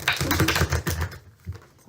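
A deck of cards is shuffled quickly, giving a dense, rapid riffling patter that cuts off abruptly partway through, followed by a brief softer flutter.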